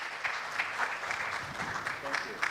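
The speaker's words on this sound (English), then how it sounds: "Can we clap for him?" Faint, steady clapping from a conference audience at an international research conference on business and economics, soft and somewhat distant, mixed with murmuring voices.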